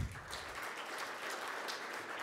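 Dense, sustained applause from the audience at an agribusiness award ceremony, an even wash of many hands clapping throughout at moderate loudness.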